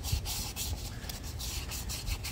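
Steady back-and-forth rubbing of 600-grit sandpaper on a seized motor part from a Toro TimeCutter zero-turn lawnmower, rhythmic strokes, close and fairly quiet, with no talking.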